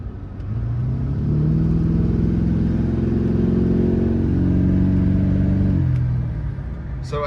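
A truck engine drops to idle, then revs hard, the rising roar climbing and holding loud for several seconds before easing back down, close and alone.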